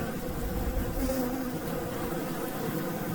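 Wasps, hornets, bumble bees and honeybees swarm around a feeder, producing a dense, continuous close buzzing drone with overlapping wingbeats and no pauses.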